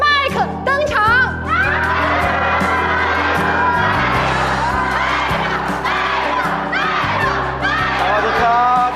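A large crowd at a fan signing event for a pop singer cheers and screams loudly, with shrill whoops and shouting rising and falling throughout, and an amplified voice is heard speaking over it.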